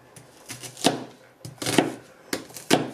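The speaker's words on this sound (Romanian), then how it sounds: "Așa tocăm toată ceapa." A knife chops through onion on a board in short clustered bursts of crisp cuts, a few strokes per second, close and fairly loud with no talk.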